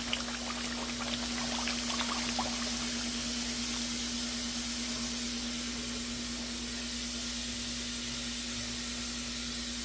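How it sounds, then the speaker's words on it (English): Water pours into a pot of simmering oxtail, a soft steady splashing hiss that is strongest near the start and continues faintly with a constant background hum. "I'm gonna add some more water."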